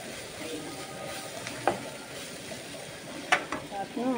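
Turmeric powder being mixed into food frying in a pan, a steady close sizzle broken by a couple of sharp utensil scrapes and knocks, with a voice briefly present.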